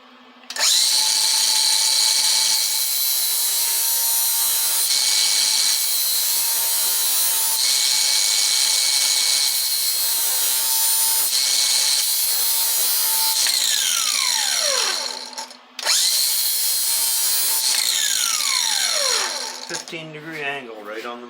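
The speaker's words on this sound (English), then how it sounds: "So I take these cobalt drills and I sharpen them" Cobalt drill bits are ground on a sharpening machine in a steady, loud, continuous whine with a low hum beneath, broken by a brief pause and by falling pitch sweeps as the grinder spins down.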